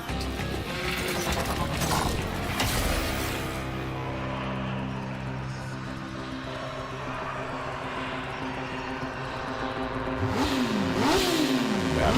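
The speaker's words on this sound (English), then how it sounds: "That motorcycle. We're gonna need that." A motorcycle engine in the video game Warframe revving and droning continuously in the foreground, with rising and falling pitch sweeps near the end over a busy mechanical background.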